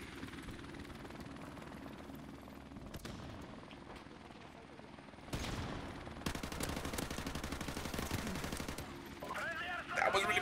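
Gunfire in Call of Duty: Modern Warfare Remastered: rapid automatic bursts crackling over a steady helicopter-like drone, starting faint and then turning into sustained, fairly loud rattling fire for the second half.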